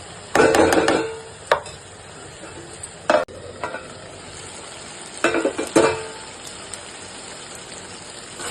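A spoon scraping and stirring chopped onions and tomatoes in a hot pan for a prawn and drumstick curry, in a few loud bursts of stirring with pauses between, over a steady close sizzle.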